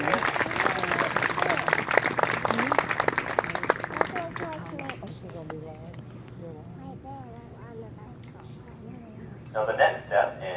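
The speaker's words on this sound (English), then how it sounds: "So please join me in another applause for those who came out here." An outdoor audience at a cannon firing at the Grand Hotel in Fairhope, Alabama claps for several seconds in a dense patter that fades out, followed by someone talking.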